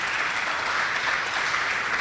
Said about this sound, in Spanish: Les pido por favor un aplauso.